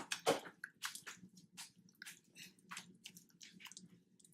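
Slime mixed with sponges and beads is worked by hand, giving a run of soft, wet squishing and clicking pops at an irregular pace, close and fairly quiet.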